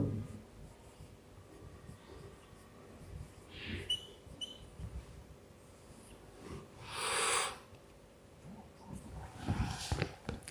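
Someone writes an example by hand during a maths lesson on sets of numbers, making soft scratchy strokes in short bursts with pauses between them. A few louder scrapes stand out, and the sound is quiet and close.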